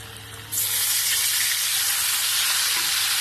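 Slit green chili and ground fennel dropped into hot oil burst into a loud, steady hiss of frying that begins suddenly after a brief quiet moment and continues close up.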